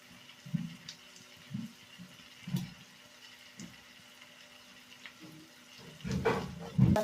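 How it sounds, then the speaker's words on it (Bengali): Water poured into a pan of cooking mango masala: soft splashing bursts come at a slow, uneven rhythm, then grow into a louder, fuller pour near the end. "আমি এখানে 2 বাটি জল দিয়ে দিলাম"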